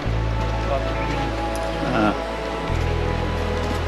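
Forest stream water rushes steadily along the trek route to Hebbe Falls in Chikmagalur, a close, continuous wash under a persistent low hum, with no voices.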